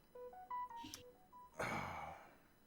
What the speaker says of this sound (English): I gotta turn off this stupid phone